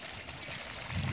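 Irrigation water flows steadily through a machine-sown garlic field, a continuous gurgling rush that grows a little louder toward the end, with no talk.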